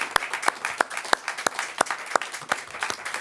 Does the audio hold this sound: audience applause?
yes